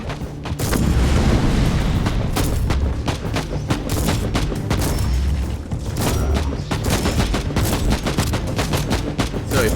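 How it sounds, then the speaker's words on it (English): Dense, loud gunfire and booming blasts from a shotgun fired at a space marine in the Warhammer 40,000: Inquisitor – Martyr video game, a sustained barrage of sharp reports with heavy low rumble throughout. "So effective the shotgun is against a marine."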